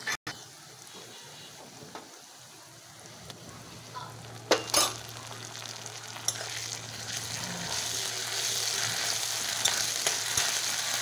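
Ginger and garlic paste sizzles in a hot pan with browned onions, a steady crackling fry that grows denser over time, broken by a few sharp spatula scrapes and clicks.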